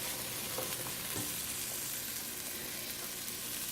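Onions sauteing in butter in a frying pan give a steady, close sizzle with faint stirring scrapes, with no talking.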